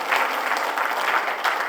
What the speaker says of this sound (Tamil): கைத்தட்டலாம் நீங்க அவருக்கு.